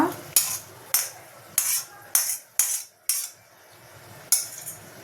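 A metal spoon repeatedly scrapes and knocks against an iron pan as tomato and tamarind are transferred into another bowl, producing about eight sharp, close clinks at irregular intervals with quiet pauses between.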